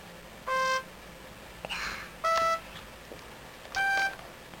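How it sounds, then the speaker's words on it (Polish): A toy trumpet is blown in three short, bright, reedy honks with pauses between them, close and fairly loud over a quiet room. "A, to jest trąbka."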